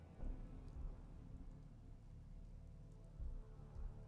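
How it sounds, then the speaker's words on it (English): Game rain in Fallout 4 makes a faint, low steady patter with a few soft deeper thumps of drops or distant rumble, and no voices. "And it's raining again."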